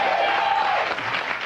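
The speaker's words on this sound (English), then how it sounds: "You ever notice you mention New York City or Chicago, people always applause?" Steady audience applause fills a comedy club show, dense and continuous throughout with a faint tonal whistle early on and no clear voices.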